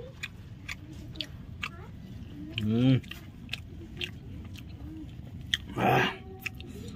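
Badi chura, a crunchy fried snack, is bitten and chewed close to the mic, with two loud crunchy bites a few seconds apart and softer chewing clicks between them, alongside brief bits of talk.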